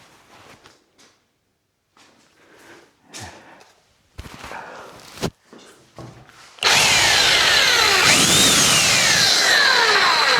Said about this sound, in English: plug the jackhammer into that, and hopefully